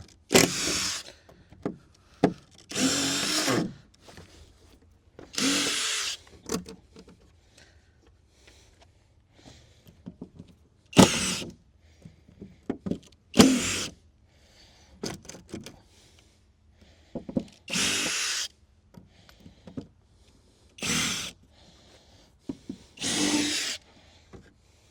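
A power drill driving screws into a lawn mower shed: repeated short whirring bursts, each a few seconds long, separated by quiet pauses with small knocks and handling noises.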